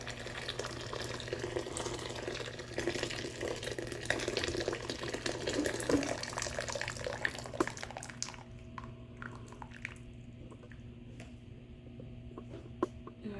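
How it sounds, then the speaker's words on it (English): Boiling water pours into a sink in a steady rushing splash for about eight seconds, then stops, leaving a quieter room with a few faint clicks and drips. "I have some boiling water here that I'm pouring into the sink."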